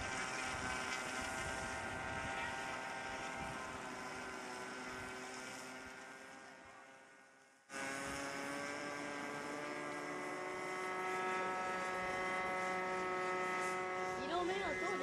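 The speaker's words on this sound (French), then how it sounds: "Il en met un tour à décoller cet avion." A loud seaplane propeller engine drones steadily during takeoff, roaring with rising pitch, cuts briefly, then surges back at full power, a continuous harmonic whine throughout.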